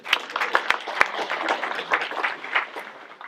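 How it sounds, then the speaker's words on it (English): An audience at an insurance lunch-and-learn seminar claps for the presenters, with sharp individual claps over a thinner patter of applause that stays fairly modest. "So a warm round of applause for our presenters."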